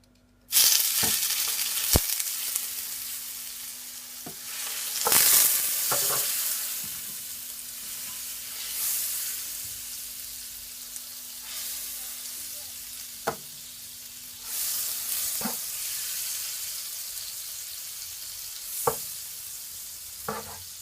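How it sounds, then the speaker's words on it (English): Butter, at least two spoonfuls, sizzling and browning in a hot pot on the stove for honey ginger butter salmon: a steady, moderately loud frying hiss with occasional sharp pops and clinks, no talking. "So now I'm gonna add my butter to it."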